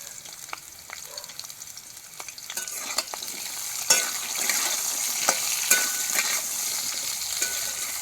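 Drumsticks and potatoes fry in mustard oil with salt and turmeric in a kadai, giving a steady sizzle that builds midway, with occasional clinks and scrapes of stirring and no voices.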